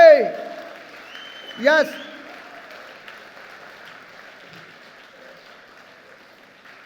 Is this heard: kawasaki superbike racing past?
no